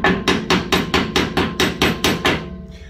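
Ten sharp hammer taps on metal of a Myford lathe during strip-down, in a steady, even rhythm, close and clear, with no talking.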